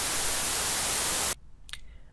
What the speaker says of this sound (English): Here's white noise.